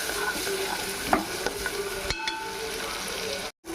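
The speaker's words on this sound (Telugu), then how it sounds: "ఇదిగో ఒక్కొక్కసారి గరిటె పెట్టి తిప్పుకుందాం." Tomato pieces frying for a spicy egg potato kurma, stirred with a ladle, with a bright continuous sizzle broken by scraping knocks and clinks of the ladle against the pan, close and without talk.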